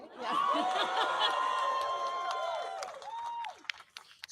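A large crowd at a New Hampshire political rally applauds and cheers loudly and steadily, with whoops and whistles riding over the clapping before it thins out and fades near the end.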